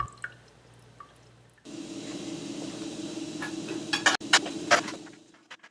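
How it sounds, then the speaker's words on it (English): Water doused into the inside of a freshly fitted Roman gladius grip, first a soft liquid hiss and gurgle, then a few sharp splashy drips and clatters near the end, close and fairly quiet. "I doused the inside with water."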